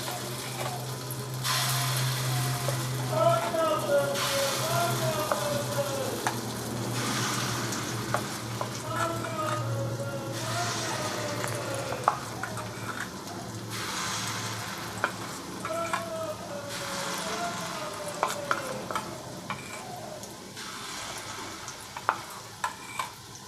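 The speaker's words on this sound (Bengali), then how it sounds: "আমি এবার বড়াগুলোকে আস্তে আস্তে করে ভেজে নিচ্ছি।" Masoor dal bora, lentil fritters, fry in hot oil with a steady, close sizzle, punctuated by occasional soft clinks and stirring noises throughout.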